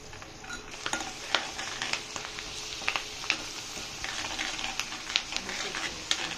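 Fenugreek, mustard seeds, cumin and curry leaves sizzle steadily in hot oil for prawn pickle, a continuous crackling hiss with sharp pops and spits and occasional light clinks of a spoon against the pan.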